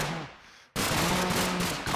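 A gun firing in a Minecraft weapons mod: loud, continuous crackling gunfire bursting in suddenly after a brief quieter moment, rapid repeated shots filling the rest, close and harsh.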